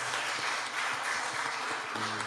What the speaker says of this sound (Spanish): ¿Qué tal si usted le da al Señor un aplauso bien grandote?